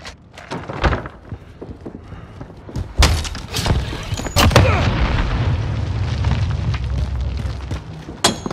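Precision airstrike explosions in Call of Duty: Modern Warfare, a series of sharp booms and impacts followed by a heavy rumbling blast that rolls on, loud and close, with scattered cracks throughout.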